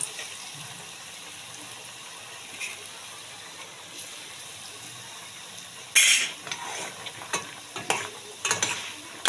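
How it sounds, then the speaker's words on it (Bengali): Sweet potato langcha sweets frying in oil, a faint hiss at first, then a sudden burst of sizzling as more pieces go in, followed by scattered stirring clinks and bubbling, close. "আর বাকিগুলো আবার তেলে দিয়ে ভেজে নিচ্ছি"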